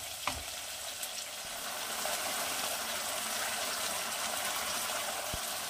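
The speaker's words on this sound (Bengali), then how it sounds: "এবার এটাকে একটু ভালো করে মিডিয়াম টু লো হিটে আমি এটাকে খুব ভালো করে কষিয়ে নেব" Masala for a Bengali fish curry fries in oil on medium-low heat. A constant hiss and sizzle runs throughout, with a couple of faint clinks of a utensil near the start and again near the end.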